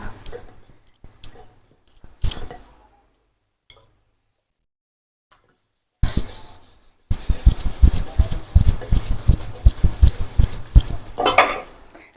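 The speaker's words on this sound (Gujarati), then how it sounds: "આપણે અહીંયા ફટાફટ મંડી રોટલી વણવા" Rotis are rolled out with a rolling pin: a few scattered knocks and scrapes, a silent pause, then a steady run of rhythmic rubbing thuds on the board, close and fairly loud.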